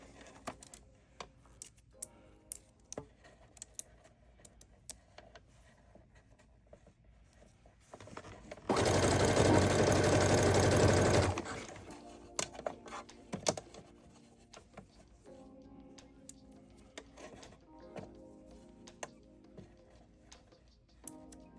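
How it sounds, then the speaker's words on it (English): A sewing machine runs in one steady, dense burst of rapid stitching for a few seconds, between quieter stretches of small clicks and handling noises. "it's getting caught underneath the sewing machine"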